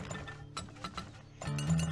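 Oil drill rig machinery in the game Turmoil, a clanking, ratcheting series of metallic mechanical clicks and gear sounds, ending in a louder sustained whirring grind, with no voices.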